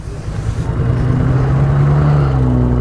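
A motorcycle engine starts and settles into a steady, close idle hum with a low rumbling tone, running on after a brief initial burst.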